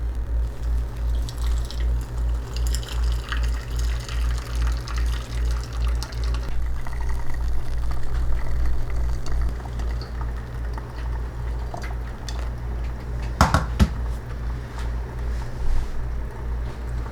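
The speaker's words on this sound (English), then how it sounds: "Then I bring my hot water and I pour it in." Hot water poured into a cup of keto coffee, a steady close trickle and splash over a constant low hum, with a couple of sharp clinks near the end.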